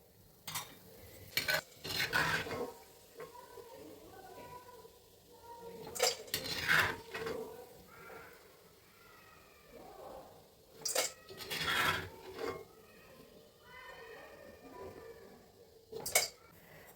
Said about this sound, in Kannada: ಈಗ ಹುರಿಗಡಲೆ ಹಾಕ್ತಾ ಇದ್ದೀನಿ. ಒಂದಾದ್ಮೇಲೆ ಒಂದು ಹುರ್ಕೊಳ್ಳೋಣ.